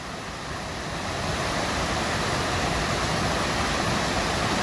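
Rushing mountain water on a hike in Andorra roars as a steady, close, broadband wash that builds slightly and then holds, with no voices.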